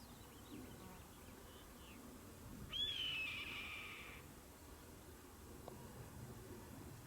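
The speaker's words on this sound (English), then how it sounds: "I think that's a golden eagle on the rock there making the noise now" A golden eagle perched on a rock on Mineral Mountain near Florence Junction, Arizona gives a single thin, descending whistled call at a distance, faint over steady outdoor wind noise.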